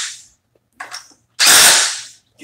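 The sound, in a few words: impact driver driving a screw, DeWalt vs Milwaukee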